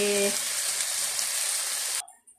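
Sliced chayote dropped into a hot frying pan, a loud close sizzle that rises at once and holds steadily for about two seconds before cutting off.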